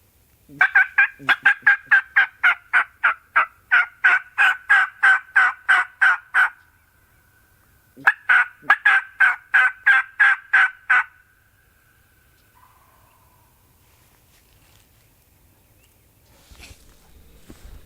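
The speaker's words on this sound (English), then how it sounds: "He's gobbling around the other side of this thing, and he's hammering it right now." A wild turkey gobbles in two long rapid bursts, loud and close, separated by a short pause, then quiet with faint rustling.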